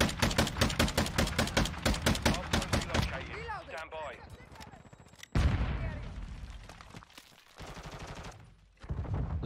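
Lachmann 762 battle rifle in Modern Warfare 2 fires a fast, loud burst of evenly spaced shots for about three seconds, then falls quiet as game effects and a voice take over, with another sharp blast and scattered shots after.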